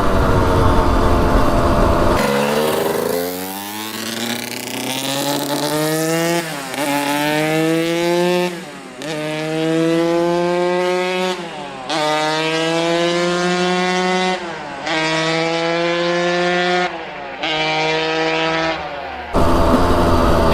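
A Suzuki RM125 dirt bike two-stroke engine revs hard and loud up through the gears, each rising whine cut by a brief dip at the shift, repeating roughly every two to three seconds, close and alone with no talk.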